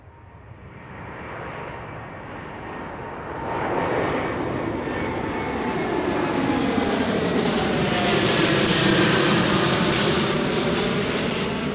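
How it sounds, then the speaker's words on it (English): A KLM Boeing 787 Dreamliner jet takes off, its engine roar building from a moderate rumble to a loud, sustained broadband thunder that swells and holds steady, with no talk. "This one is a KLM Dreamliner."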